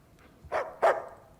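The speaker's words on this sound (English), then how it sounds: "Can you pet the dog?" A dog in the video game Uncharted 4 gives two short, sharp barks in quick succession, close and fairly loud, with a quiet pause before and a faint tail after.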